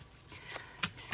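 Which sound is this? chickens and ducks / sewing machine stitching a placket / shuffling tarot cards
shuffling tarot cards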